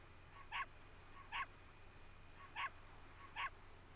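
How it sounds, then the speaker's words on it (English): Stock dog barking from the retro video game BOWIEtheHERO: four short, identical barks spaced unevenly over a few seconds, faint and clean above a low steady hum. "There was only one stock dog noise back then."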